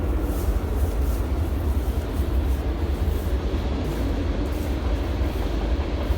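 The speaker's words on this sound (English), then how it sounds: "There's a train going by through the bush over there." A train rumbles past steadily through bush beside a scrapyard near the tracks, a loud, continuous low roar that fills the whole stretch without pause.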